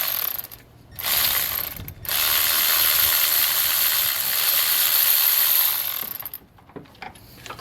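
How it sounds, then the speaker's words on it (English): A Milwaukee 12-volt 3/8-inch drive cordless ratchet loosens bolts during a water pump replacement on a 2.4-litre Toyota Camry, its loud whirring motor running in long steady bursts with brief pauses between, close up and without talk. "take my Milwaukee 3/8 drive, cordless ratchet, 12 volt,"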